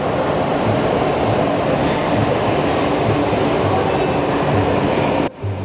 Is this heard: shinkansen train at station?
yes